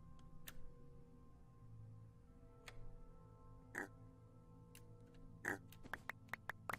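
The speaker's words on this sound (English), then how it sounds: "Look at all these little pigs." Pigs in the Minecraft video game give short, scattered oinks over a quiet, faintly humming game background, several grunts spaced irregularly, with no talking.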